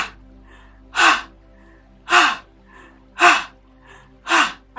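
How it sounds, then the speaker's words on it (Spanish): Forceful breaths drawn in and pushed out through the mouth in a breathing exercise: four loud, evenly spaced bursts about a second apart, each a sharp rush of air, with quiet gaps between them. "Absorbemos con fuerza y lanzamos el aliento, como si botaras la energía tóxica."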